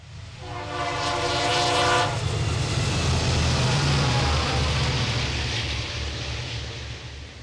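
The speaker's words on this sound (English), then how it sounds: "The lead unit is a rare 1978-built GP-40X, one of 10 owned by the Santa Fe." A Santa Fe GP-40X diesel locomotive, built in 1978, sounds a loud multi-tone horn for about two seconds, then rumbles steadily past up close with deep engine drone and rolling wheel noise.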